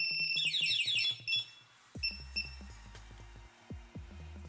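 A keyless anti-theft motorcycle alarm sounds a noisy electronic siren of warbling, stepping beeps and chirps, repeated in quick bursts, close and fairly loud.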